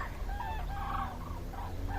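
Ducks or geese call overhead in the Kharkiv region of Ukraine in a series of plaintive, honking cries, moderately loud above a low steady rumble.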